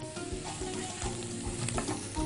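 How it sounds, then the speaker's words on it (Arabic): Garlic and coriander hit hot ghee in a tarka and sizzle loudly and continuously, with stirring clinks and scrapes throughout. "طشة كزبرة وتوم."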